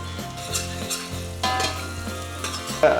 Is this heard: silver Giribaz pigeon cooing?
no